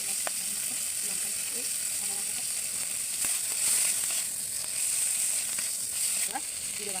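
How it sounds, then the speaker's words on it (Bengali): Spice paste with turmeric, chilli and green chillies sizzles steadily in a pan while being cooked down for a raw banana curry, a continuous close frying hiss with faint scraping throughout. "মশলাটা না এরকম ভালো করে কষে নিতে হবে"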